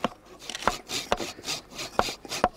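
Walnut wood is hand carved into a skittle with a blade, giving close rhythmic scraping strokes marked by sharp cutting clicks roughly every half second.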